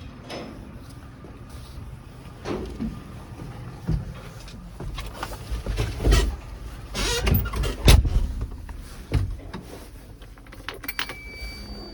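A warmed-up MTZ-8 tractor engine runs with a steady low rumble, broken by a series of loud clunks and knocks, the heaviest coming near the middle and end.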